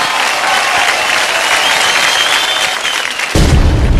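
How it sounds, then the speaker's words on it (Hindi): Loud, sustained applause from a large crowd fills the clip, swelling slightly toward the end. "तो इसी वक्त पे जोरदार ताली हो जाए"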